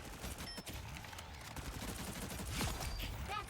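Rocket's left-click guns fire in rapid automatic bursts in the Marvel Rivals video game, a fairly faint, dense rattle of shots set against game background noise.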